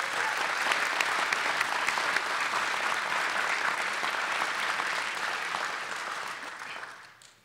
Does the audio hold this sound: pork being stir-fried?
no